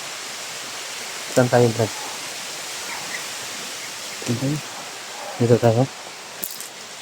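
A stream flows outdoors with a constant, full rushing wash of water that runs the whole time, while men exchange a few short spoken lines over it.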